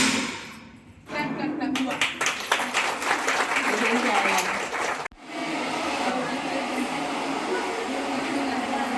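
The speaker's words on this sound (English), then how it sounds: "Clap." A crowd applauds at the inauguration of a women's self-help paper production unit, with sustained clapping that swells, briefly breaks, then continues steadily and loud.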